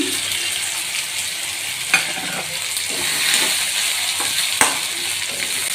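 Prawns sautéing in a pan with turmeric, salt and tomato, giving a loud continuous sizzle with a few spatula scrapes and clinks, close up and without voices.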